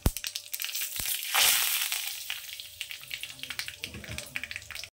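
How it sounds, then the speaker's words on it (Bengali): Mustard seeds and curry leaves crackle and sizzle in hot oil for a South Indian fish curry, with a loud burst of spluttering early on, then steady popping and frying close by. "তেল গরম হয়ে গেছে, আর এর মধ্যে প্রথমে দিয়ে দিচ্ছি একটু সর্ষে, আর দিয়ে দিচ্ছি একটু কারি পাতা"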